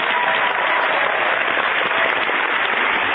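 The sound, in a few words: round of applause on radio show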